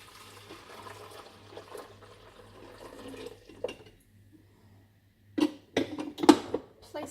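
Boiled water pours into the top of a coffee machine in a grid-down setting, a soft trickling and liquid splashing near the start, then several louder clunks and sloshes close by.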